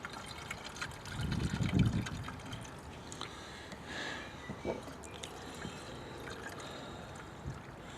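Coolant being poured in to top up the cooling system of a 2007 Peugeot 207 1.4 petrol 16-valve during a flush after a blown head: a soft liquid trickle with a brief louder gush near the start, then a faint steady dribble.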